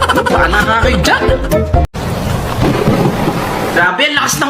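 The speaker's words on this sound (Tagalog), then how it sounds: "Grabe, ang lakas ng ulan." Heavy rain pours in a loud, dense hiss while thunder cracks and rumbles close by; people talk over the storm in the first half, and the roar fills the rest.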